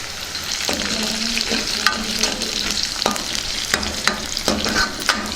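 Onions, garlic cloves and dried red chillies fry in hot oil with a steady close sizzle, while a spoon stirs against the pan in repeated scrapes and knocks; nobody speaks.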